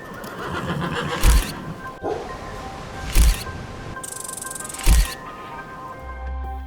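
A horse whinnies over a muffled background, punctuated by three sharp thumps spaced a couple of seconds apart.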